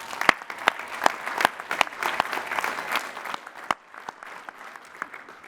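A large university commencement crowd applauds degree recipients in a big hall, a wash of clapping with sharp individual claps popping out, gradually thinning toward the end.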